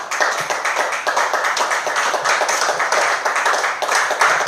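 A church congregation claps together in a steady, dense burst of applause filling the room, sustained for several seconds without speech.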